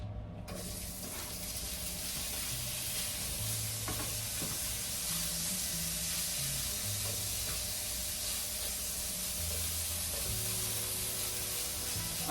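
Food cooks gently in a pan over low heat on a hotel-room setup, giving a steady, soft sizzle and hiss that runs the whole time with faint stirring clinks and no talking.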